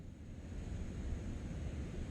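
Ocean surf rolling in the game What Remains of Edith Finch, a steady low rumbling wash of waves off the coast of Washington, continuous and fairly quiet with no speech.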